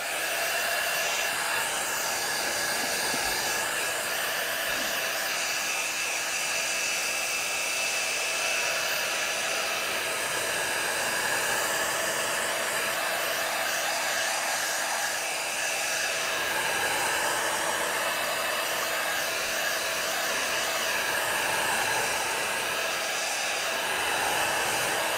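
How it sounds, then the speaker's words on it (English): A heat gun blows hot air while altering a collaged cool box, giving a loud, steady rushing whoosh that runs without a break for the whole stretch, with no voices. "Okay, heat gun."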